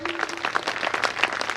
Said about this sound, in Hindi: आप सभी के लिए जोरदार ताली।